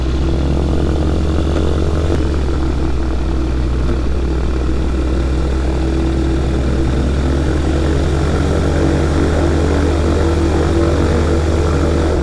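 A small propeller plane's engine running loud and steady on the ground after landing at East Fortune airfield, a continuous droning buzz with a slight shift in pitch early on.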